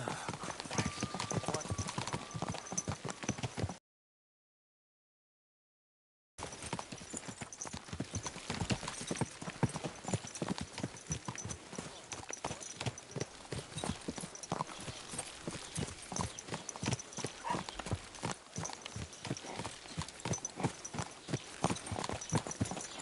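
Horse hooves clip-clop steadily in Kingdom Come: Deliverance 2, with an occasional whinny, sounding close and fairly loud under a voice, broken by a short silent gap.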